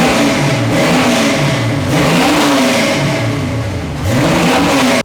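An old car's engine, with a front crank seal leak, revs steadily and loudly up close, rising and falling in several swells with no talking.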